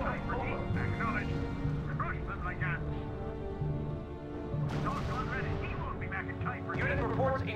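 Gunfire and booming artillery from the strategy video game RUSE, with steady battle rumble and bursts of shots under radio-style voices talking throughout.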